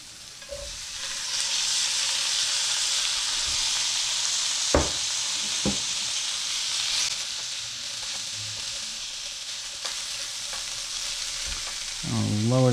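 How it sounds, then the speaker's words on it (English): Sausage sizzling loudly as it goes back into a hot pan, a constant close frying hiss broken by a few sharp utensil clicks and scrapes, with no talking. "now we're going to add the sausage back in"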